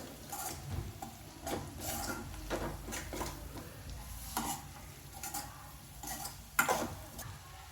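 Ginger garlic paste fries with onions in a pan for a mushroom and cashew masala curry, with a soft continuous sizzle under steady stirring and scraping and an occasional sharper clink.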